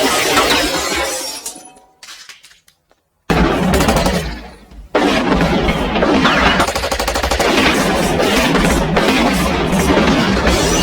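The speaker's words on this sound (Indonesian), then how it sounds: "Terjadi baku tembak kecil-kecilan dan Arius sangat mudah sekali untuk dikalahkan." Rapid bursts of gunfire from a film fight scene, loud automatic volleys with shattering glass, breaking off into a near-silent pause before the shooting resumes and continues densely to the end.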